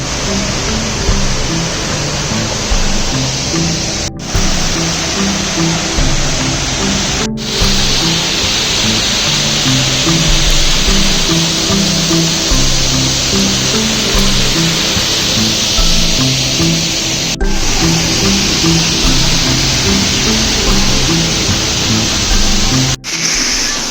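Waterfall on the Four Waterfalls Walk in the Brecon Beacons, heard up close from behind the falling water: a loud, constant broadband roar of crashing spray that never lets up.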